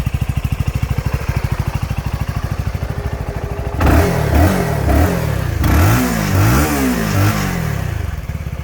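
A 2023 CF Moto 300SS sport motorcycle on its stock exhaust idles with a fast, even pulse, then revs sharply several times in quick rising and falling blips, loud and near, with no talking.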